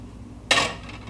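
A single sharp metallic clank rings out as a skillet knocks against other pans in a home kitchen, followed by a brief fading ring.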